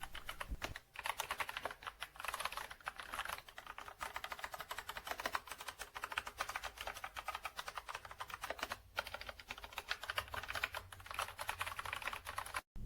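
Rapid, steady keystrokes on a compact gaming keyboard, a dense clatter of clicks that keeps up throughout with no talk, close and fairly loud.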